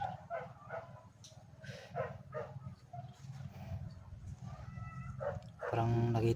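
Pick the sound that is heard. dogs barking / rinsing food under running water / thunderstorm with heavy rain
dogs barking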